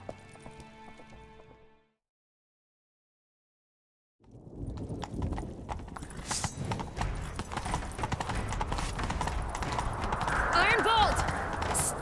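Quiet music fades to silence, then a horse's hooves clip-clop in a steady fast gallop in The Witcher 3: Wild Hunt video game, growing louder, with voices speaking over the hoofbeats.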